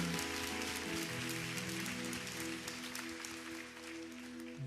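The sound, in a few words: congregation applause of thanks to God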